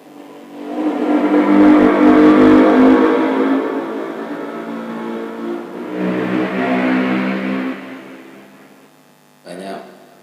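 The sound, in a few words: car driving past at Telaga Ngebel lake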